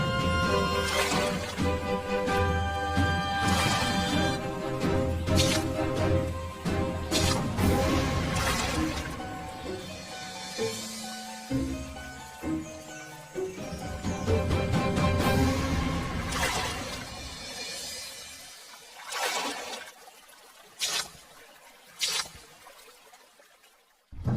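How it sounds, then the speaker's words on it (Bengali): Cartoon scene of water being bailed out of a pond, with splashes, trickles and pouring sounds over lively background music, then a few crashing hits as the music thins out. "এই পুকুরের সব জল ছেঁচে ফেললাম"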